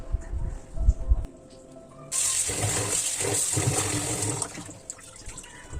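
Water running and splashing while fish are washed clean in a kitchen, a steady rushing flow that starts partway through after some low handling knocks, close and fairly loud.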